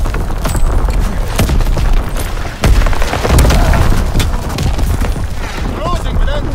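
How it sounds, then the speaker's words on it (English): Enemy artillery shells exploding in the Call of Duty WW2 video game: heavy booming blasts and crackling gunfire in a dense, continuous battle din, with one sharp blast standing out midway and voices calling over it. "Incoming enemy artillery!"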